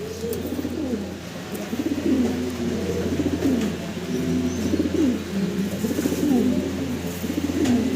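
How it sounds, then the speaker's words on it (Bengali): Saddle racer pigeons coo in repeated low, rolling calls, close by and continuous, with a steady hum underneath. "চমৎকার একজোড়া রেসার কবুতর শ্যাডেল রেসার"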